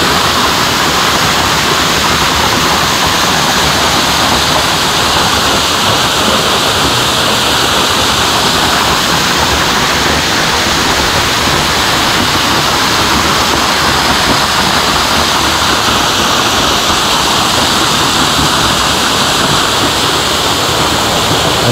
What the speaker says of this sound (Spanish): Las cascadas en el Huejar.